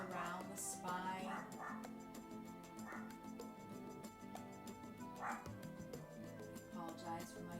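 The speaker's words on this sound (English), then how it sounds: "Apologize for my doggy." A small dog barks and yips in a room, several sharp, fairly loud bursts scattered across a steady background of soft instrumental music and a calm speaking voice.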